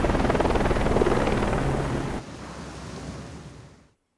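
Helicopter in the video game Far Cry 6, a loud, steady rotor and engine roar that drops suddenly in level and then fades out to silence, with no talk.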